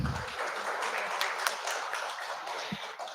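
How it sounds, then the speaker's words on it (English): Audience applause fills a conference hall at an investors' summit session in Pune, a steady broadband wash of clapping held at moderate level throughout, with no voices over it. "A big round of applause,"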